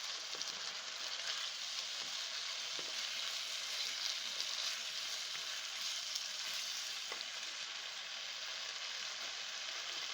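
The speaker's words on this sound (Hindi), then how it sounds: "गोश्त को भूनते हुए" Sweet beef meat frying in a pan, a soft even sizzle that holds steady throughout with a few faint stirring taps, close and without any voices.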